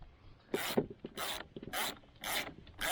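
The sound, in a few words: ratchet with 14mm socket removing kayak propeller nut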